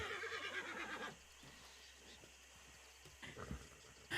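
A horse whinnies with a loud, shrill neigh in the first second, followed by quiet rustling and a brief low thump and snort near the end.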